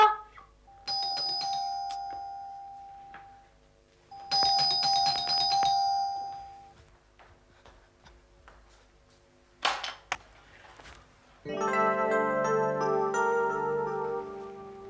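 A doorbell chimes twice in a Hindi TV serial, then after a pause a clatter, and a longer melodic electronic chime plays near the end, clear and close.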